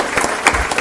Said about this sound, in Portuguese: por favor, eu pediria uma salva de palmas para a nossa convidada, Maria Silvia.